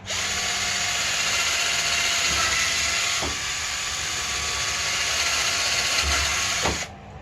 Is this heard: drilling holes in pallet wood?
yes